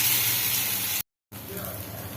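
Cabbage adai batter sizzles on a hot griddle in a steady, close hiss that breaks off for a moment, then resumes a little softer.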